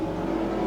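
Super sedan race cars at the 1984 Australian Grand National drone past in a loud, steady engine roar, a short unbroken burst of engine noise.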